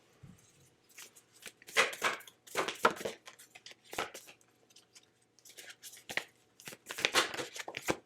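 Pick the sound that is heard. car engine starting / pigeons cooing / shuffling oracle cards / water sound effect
shuffling oracle cards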